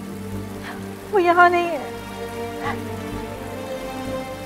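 Rain falls steadily as a soft, constant hiss while a voice speaks over it.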